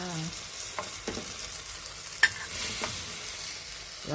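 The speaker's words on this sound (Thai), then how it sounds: "ผัดผักรวมใส่เนื้อหมูนะคะ" Mixed vegetables and pork stir-frying in a hot pan, a steady sizzle with occasional scrapes and stirring clatter, close and continuous, with no talking.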